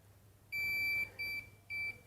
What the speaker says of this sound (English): It will beep if it doesn't have contact.